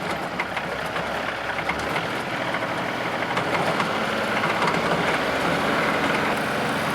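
A tractor engine is throttled up with its PTO driving a swing-type stump grinder, making a steady, loud, dense mechanical drone that runs unbroken throughout with no speech.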